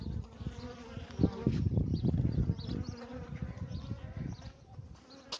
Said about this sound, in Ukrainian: після рій від роя лишилася жменька бджоли